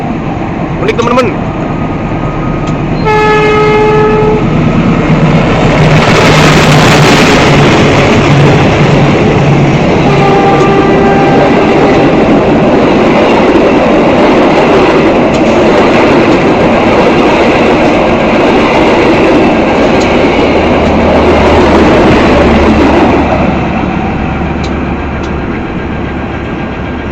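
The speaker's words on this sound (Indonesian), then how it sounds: "Oke, kereta api Gajayana sudah melintas langsung di stasiun Ngebruk." The Gajayana express train roars through Ngebruk station in Indonesia at close range without stopping, loud and sustained, with horn blasts near the start and a steady rush of wheels before it fades.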